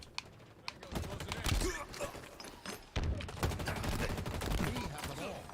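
Video game gunfire, bursts of rapid shots and sharp cracks scattered through a busy mix of clicks and effects, moderately quiet with brief louder bursts, no talk.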